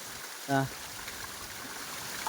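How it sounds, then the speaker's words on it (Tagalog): Water from small waterfalls flowing near a hot spring in Lapas, Leyte, a steady moderate rushing stream throughout, broken by a brief voiced sound near the start. "May mga tubig gikan sa ibabaw, mga waterfalls so gagmay"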